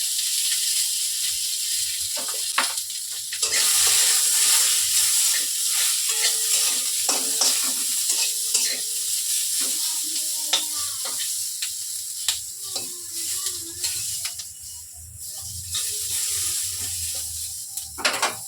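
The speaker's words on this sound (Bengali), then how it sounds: "এগুলি অল্প সামান্য তেলে কড়াইতে একটুখানি দিয়েই নাড়াচাড়া করে নামিয়ে রাখবো" Chunky-cut onions are stirred and fried in a little oil in a wok, giving a continuous hissing fry broken by irregular clattering strokes of the spatula, close and fairly loud.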